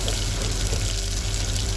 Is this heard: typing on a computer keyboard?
no